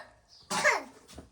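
A young child coughs once in a short burst indoors, fairly soft, followed by a faint trailing breath.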